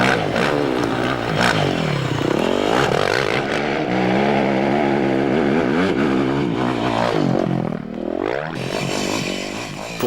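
Production motocross motorcycle ridden over bumpy terrain, engine revving and dropping in repeated surges of acceleration, loud and close throughout with no voices.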